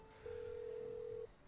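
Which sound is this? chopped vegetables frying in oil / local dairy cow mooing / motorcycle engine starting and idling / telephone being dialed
telephone being dialed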